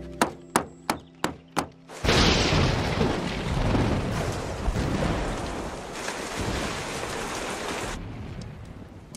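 Rain falling heavily in a dense, steady wash that follows a run of sharp knocks and then eases off.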